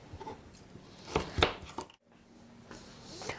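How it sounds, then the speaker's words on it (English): Knife chopping carrots for a paleo bacon and smoked salmon skewer recipe: a few quick close thuds in a short burst, then a brief silence and low kitchen room tone. "I've finished chopping up all those carrots"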